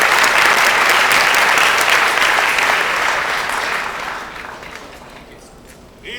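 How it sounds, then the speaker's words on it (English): A crowd at a startup pitch event applauds loudly, a dense wash of clapping that holds steady for several seconds, then gradually thins and fades toward the end. "Give a round of applause to the Slovenian."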